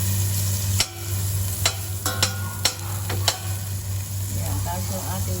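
Butter sizzles in a pan as sautéing begins for carbonara, a steady soft frying hiss under a constant hum, with a few sharp clicks of a utensil against the pan.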